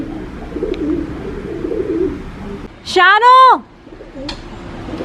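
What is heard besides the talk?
pigeon cooing on a car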